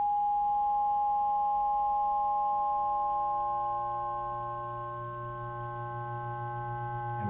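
A steady through-zero FM synthesizer oscillator tone holds several bright partials, then shifts as the FM is increased and a low buzzing component swells, the timbre growing harsher toward the end.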